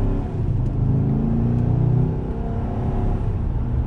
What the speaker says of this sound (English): Accelerates nicely.